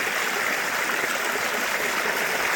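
Water flows along a stream in the early morning, a close, continuous rushing babble that stays even throughout, with no voices.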